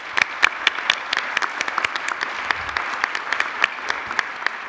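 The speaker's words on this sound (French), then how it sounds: "je crois qu'on peut encore de nouveau l'applaudir" An audience in a formal assembly session applauds a departing administrator, steady close clapping with many distinct hand claps throughout.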